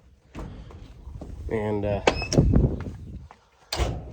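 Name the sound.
opening a tractor cab door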